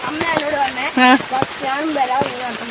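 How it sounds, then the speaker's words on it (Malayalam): Steady, heavy monsoon rainfall hisses in the background while a person talks loudly and close by over it. "ഈ പെരുമഴയത്ത് സൈക്കിളിന് പോകാൻ പറ്റൂലല്ലോ"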